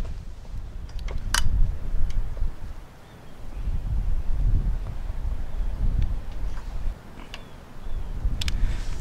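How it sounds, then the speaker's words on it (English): Strong wind gusts buffet the microphone outdoors beside a barrel smoker, in rolling surges with brief lulls between, and a few faint ticks. "it's really windy out here"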